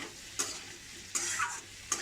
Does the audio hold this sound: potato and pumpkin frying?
yes